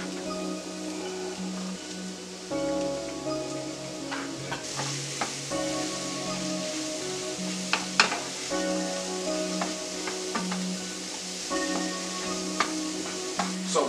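Mushrooms, red onions and garlic sauté in a pan, a steady soft sizzle broken by scraping and stirring clacks of a utensil against the pan, close and uninterrupted by voices.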